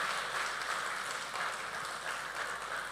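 Audience applause fills the whole stretch at an event honouring Gudur Narayana Reddy, a dense, steady wash of many hands clapping with no breaks and no talk over it.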